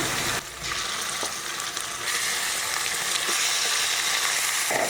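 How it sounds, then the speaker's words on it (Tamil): Chicken pieces drop onto sautéed onions in a hot pan for pepper masala chicken, and a loud, steady sizzle and crackle follows close by, with no talk. "வெங்காயம் நல்லா வதங்கிடுச்சு சிக்கன் சேர்த்தலாம்"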